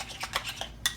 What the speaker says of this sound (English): I can actually use a spoon now and mix it up good